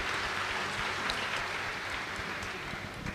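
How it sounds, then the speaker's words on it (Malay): An audience at an evening gathering in Kelantan breaks into a steady, dense round of clapping, sustained at an even level for the whole stretch with no voices standing out. "Baik, kita bagi tepuk tangan gemuruh untuk rakyat negeri Kelantan hadirin sekalian."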